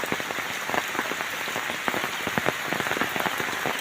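Steady rain pours down on a rubber plantation, a dense continuous patter of drops striking leaves and surfaces, close and even throughout with no voices.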